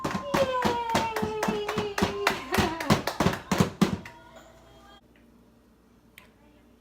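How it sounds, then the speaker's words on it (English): A baby's hands clap in a quick run of sharp claps for about four seconds, near and fairly loud, with an adult cheering over them before it falls quiet. "Liam, clap, clap."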